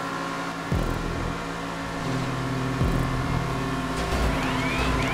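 A car engine droning steadily while driving in the video game GTA 5 Online, with pitch sweeps as it shifts and revs, loud and continuous over a busy background.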